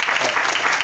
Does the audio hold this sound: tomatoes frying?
no